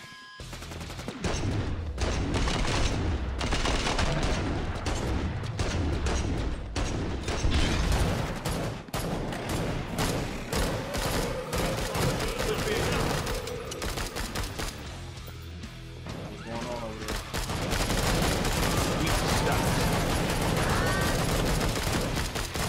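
Dense bursts of gunfire in the video game Killing Floor 2, rapid volleys and automatic fire layered with mechanical clanks, loud and continuous with brief lulls, voices faintly mixed in.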